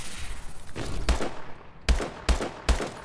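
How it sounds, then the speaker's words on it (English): Gunfire in Call of Duty, a video game, several sharp loud shots in quick succession followed by a few evenly spaced single bangs, with no talk. "He just got shot twice in the legs."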